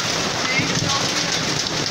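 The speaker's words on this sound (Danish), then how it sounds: "Det ligner torden, og det regner helt vildt. Og det havler nu." Heavy rain mixed with hail pounding down in August, a loud, dense, continuous roar of drops hitting surfaces close by, steady throughout with no breaks.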